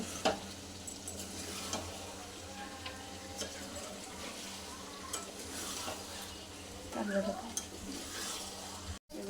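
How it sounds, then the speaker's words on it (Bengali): Mutton is stirred and fried with spices in a pan for kosha, a faint, continuous sizzle broken by soft scraping and occasional light clinks of the spoon. "এবার এটাকে ভালো করে কষবো।"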